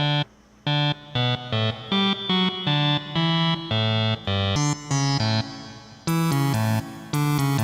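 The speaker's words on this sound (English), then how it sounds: "so we have reverb." Roland System 1 Promars synthesizer notes play in a steady chopped rhythm with a reverb tail filling the gaps, the tone brightening near the end.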